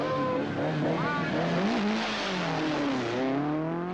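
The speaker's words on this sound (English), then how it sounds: "Waldegård's car sounds crisp on the warm evening air." Rally car on a tarmac special stage at Rally Portugal 1977, engine revving hard with rising and falling pitch through gear changes, close and loud, with a faint voice underneath.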